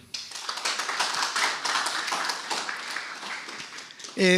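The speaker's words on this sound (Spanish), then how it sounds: "un aplauso grande para MySQL" Audience applause at the UbuConLA 2017 conference, a dense burst of clapping from a room of attendees, fairly steady for about four seconds before a voice cuts in at the end.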